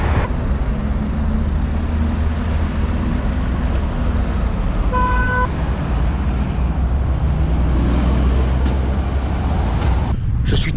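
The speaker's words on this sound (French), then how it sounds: "Ils ont des bus à Impérial." Double-decker buses and other traffic rumble through Skopje, North Macedonia, a loud continuous low engine drone with passing vehicles, a brief tonal horn-like beep midway and a hiss near the end, as someone speaks over it.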